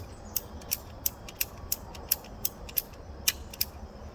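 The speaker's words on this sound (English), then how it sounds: "So go ahead and ratchet it all the way through." A ratcheting cutter cutting through gas pipe makes a regular series of sharp clicking ratchet strokes, about three per second, close and crisp over quiet background noise.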